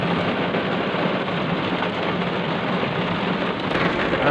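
Rain falls steadily at an African lion safari park, a continuous dense patter on surfaces at moderate level, with no voices and a faint distant rumble beneath.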